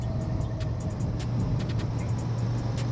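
Royal Enfield Interceptor 650 motorcycle riding on a road while overtaking a car, a steady close engine drone with low rumble and constant road and wind noise throughout, no talk.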